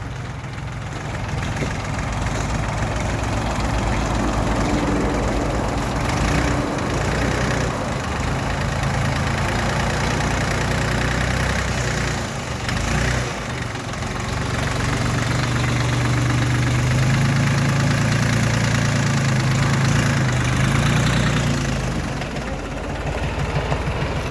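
An MTZ-40 tractor with forced hydraulics and an extra hydraulic distributor runs steadily in a raised gear, its diesel engine a loud, continuous close rumble with slight shifts in load.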